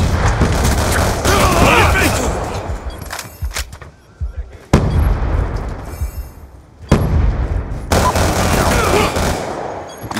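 Loud gunfire, booming explosions and blasts in a shooter video game, with grenade and RPG detonations, bursts of automatic fire and sharp impacts tumbling over one another.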